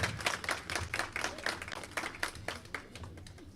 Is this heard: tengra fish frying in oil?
no